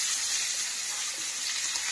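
Chopped onion hits a hot pan and sizzles loudly and steadily, a bright continuous hiss close up with no voices over it.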